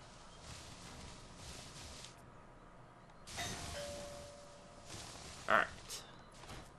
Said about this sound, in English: I had someone ring my doorbell